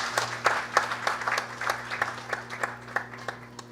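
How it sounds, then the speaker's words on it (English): A fairly quiet crowd claps in a scattered, distinct round of applause at a 50th birthday celebration, with a steady electrical hum in the background and the clapping easing off toward the end. "So let us give a round of applause for my father, Pundit Navin Maharaj."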